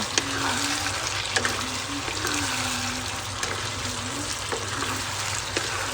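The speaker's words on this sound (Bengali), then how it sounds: "ভাজা মাছগুলো এর মধ্যে দিয়ে দেব। এটা ভালো করে একটু মিক্স করে নেব।" Fried fish pieces are tossed into chilli sauce in a pan, giving a steady sizzle broken by scattered clicks and scrapes from stirring.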